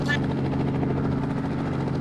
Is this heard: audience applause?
no